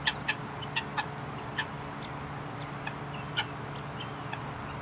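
Chickens and guinea fowl on a farm give sharp, scattered clucks and calls over a steady low background hum, several birds at middling distance with no voices.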